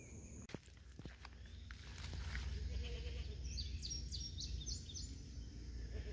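Several short bleating calls from goats, fairly close, after a few sharp knocks and shuffling steps, with steady outdoor background noise.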